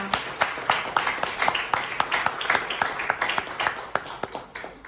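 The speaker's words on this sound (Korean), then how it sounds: "큰 박수 한번 부탁드리겠습니다" An audience claps at a Korean newspaper anniversary ceremony and press award event, a steady round of applause with distinct individual claps standing out near the listener throughout.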